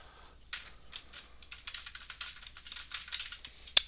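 Rapid typing of code on a computer keyboard, a quiet close run of irregular clicky keystrokes ending with one sharp louder key press.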